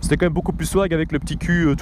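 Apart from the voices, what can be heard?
No everyday noise stands out behind the speech.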